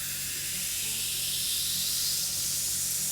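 Thick chocolate waffle cone batter sizzles on a hot waffle iron, a steady loud hiss of steam that holds for a few seconds with no talking.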